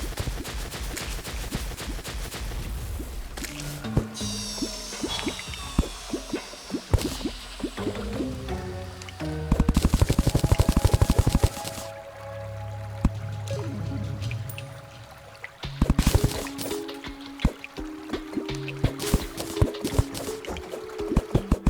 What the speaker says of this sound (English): We're going to be draining a lot of water though.